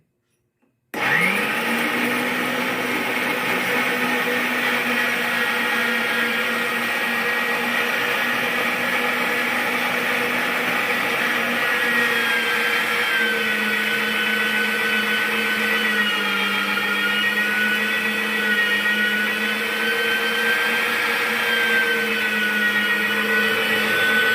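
An electric meat grinder minces liver, knee meat, lard with meat and fried onion. It starts abruptly and keeps up a loud, steady motor whine with a humming tone that shifts slightly under load.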